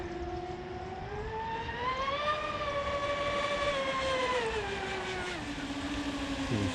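Oxidean Marine Animal 2 model boat with a 42mm purple prop running at full throttle, a thin, steady high-pitched motor whine that rises slightly then falls, heard from a distance over faint outdoor background.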